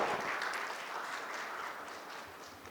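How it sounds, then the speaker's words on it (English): An audience at a business conclave applauds the presenters, a full, steady burst of clapping that fades slightly toward the end. "A big round of applause for all the presenters."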